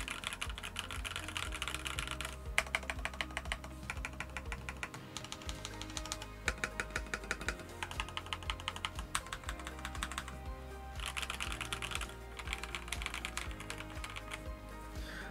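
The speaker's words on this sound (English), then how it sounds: "Now, this is a stock keyboard." Fingers type on a stock 75% budget mechanical keyboard, producing rapid, close clacking keystrokes in dense bursts separated by short pauses.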